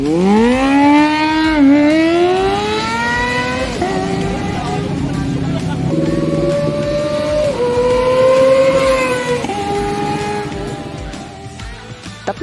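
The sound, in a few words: Kawasaki ZX-25R four-cylinder motorcycle engine roaring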